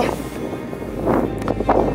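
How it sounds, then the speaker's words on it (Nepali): Steady wind rumbles against the microphone in a low, blustery roar, with a faint voice murmuring underneath. "हावा एकदमै ठुलो लागिरहेछ"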